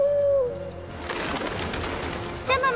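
Pigeons coo in an animated Paris scene, soft rolling bird calls over busy background sound and music, with a brief whistle-like tone at the start and end.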